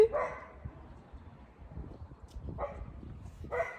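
A dog barks in short bursts, a couple of faint yips at the start and two more near the end, somewhere off in the distance over low background noise during a furniture makeover.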